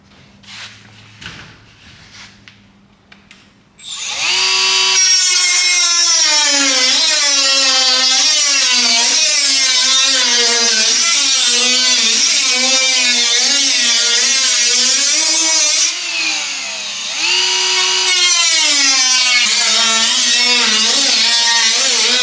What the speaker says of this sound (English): let me get the the cutoff wheel out, and let's see if I can make some headway on this